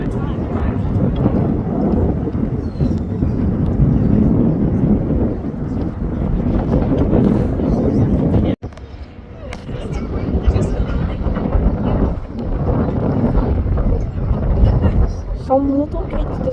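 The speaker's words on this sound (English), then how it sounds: "right now, I think there's a Delta F-51 landing" A Delta airliner lands at Boston airport with a loud, steady engine roar mixed with wind buffeting on the microphone; the sound drops out briefly midway, then the rushing noise resumes.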